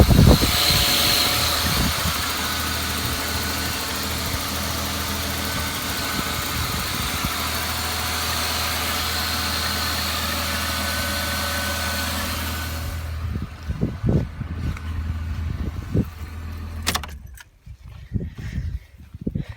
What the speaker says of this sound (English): That's the power steering pump you're hearing.